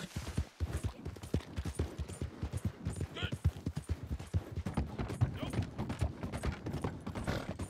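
Horse hooves clip-clop steadily on the ground while riding in Red Dead Online, a quick, continuous rhythm of soft thuds with game sounds running alongside.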